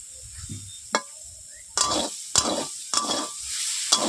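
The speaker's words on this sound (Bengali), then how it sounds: "এইভাবে আমি নেড়ে দিচ্ছি" Potatoes, eggplant and bitter gourd frying in a pan, stirred with a handful of distinct scraping strokes spaced about half a second apart over a soft sizzle, close and with no talk.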